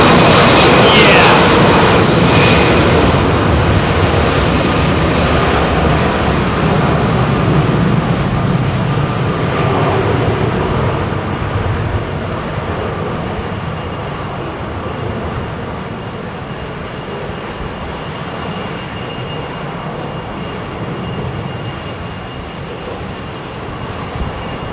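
A Qatar Airways Boeing 777-200 arrives at London Heathrow in windy weather, its engines a loud, close roar at first that gradually fades and softens as it passes.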